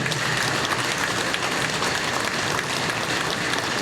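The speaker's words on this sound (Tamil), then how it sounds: "உண்மையிலேயே அதுக்கு ஒரு கைத்தட்டல் கொடுங்க, நன்றி சொல்லுங்க." A large audience at a Tamil speaking event, where actor Thamu is addressing the crowd, bursts into loud, continuous applause, a thick, even roar of clapping that fills the whole four seconds with no voices on top.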